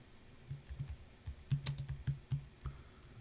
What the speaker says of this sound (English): So let's type in some text.